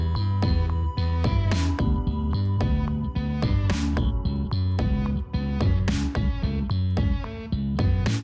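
A dense, gritty distorted recorder melody, played through a guitar distortion effect, runs continuously over a steady beat with bright cymbal-like hits, the lead tone buzzing and saturated throughout.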